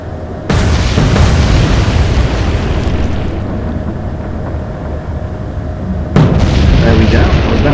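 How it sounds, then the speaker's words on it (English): A loud secondary explosion as a ship is finished off in the naval war game Atlantic Fleet, a sudden deep boom that rumbles on, fades, then a second heavy blast bursts in near the end. "Secondary explosion finishes off the Blanche"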